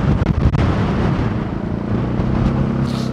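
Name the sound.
strong wind during Typhoon Tino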